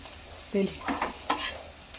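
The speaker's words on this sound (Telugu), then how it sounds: "కొత్తిమీర వేయించాను" Coriander leaves frying in a pan for a chutney, with soft sizzling and a few short stirring scrapes of a spoon, close and fairly quiet, no talking.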